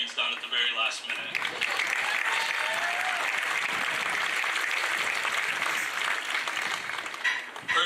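Sustained applause from a graduation ceremony audience fills the whole stretch, dense and steady clapping with a brief tonal sound near the start and faint voices mixed in.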